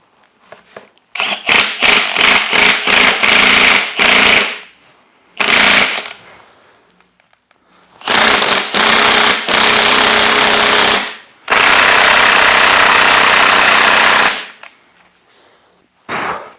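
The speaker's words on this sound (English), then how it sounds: "this one will push and separate the rim from the tire" BeadBuster XB-550 heavy-duty bead breaker separates a tire bead from its rim in loud, rapid rattling bursts, a string of short ones and then longer sustained runs with pauses between.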